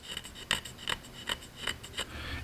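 A tool scratches across an etched, anodized aluminum receiver lower in short, evenly spaced rasping strokes, about six close, crisp scrapes with quiet pauses between them.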